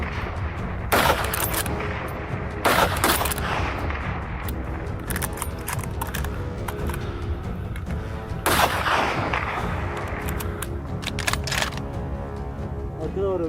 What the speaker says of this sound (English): Two boars from the herd were brought down after a series of rapid shots.